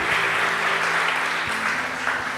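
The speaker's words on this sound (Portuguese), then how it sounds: "Quem pode aplaudir o Senhor bem forte por isso?" Congregation applause during a church sermon, dense and sustained clapping from a crowd, loud and steady throughout with a few sharper claps standing out.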